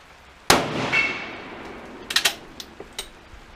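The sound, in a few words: K31 rifle firing shots with 166-grain French bullets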